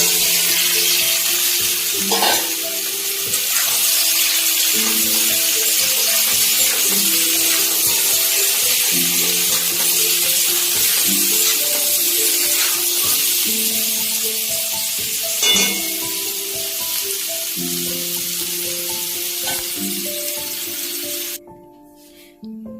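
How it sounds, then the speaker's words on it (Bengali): Raw jackfruit pieces fry in the same hot oil in a kadai just used for potatoes, giving a steady, dense sizzle that runs the whole time over soft background music and cuts off abruptly near the end. "এই কড়াতে, এই তেলেই আমি এঁচোড়টাকেও ভেজে নেব।"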